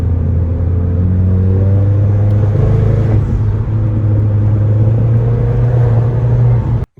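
A car engine hums and rumbles steadily from inside a Mitsubishi Lancer Ralliart with an SST dual-clutch gearbox, a continuous low drone for several seconds before cutting off abruptly.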